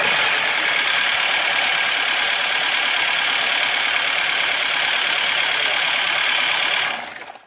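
A warmed-up diesel car engine idles with a rough, loud, steady clatter, suspected of a fault, running close and unbroken for about seven seconds before cutting off abruptly.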